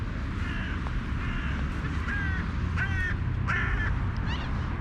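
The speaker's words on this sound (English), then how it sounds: "A couple seagulls here." Seagulls call over a freshly cut grass field, giving several short, repeated cries at a moderate distance against a steady outdoor background rumble.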